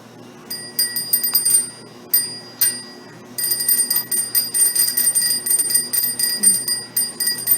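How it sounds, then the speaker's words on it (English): Bicycle bell rung repeatedly in quick bursts, bright metallic dings close to the microphone, first in short groups with pauses and then in a longer run of rapid rings. "Ring your bell."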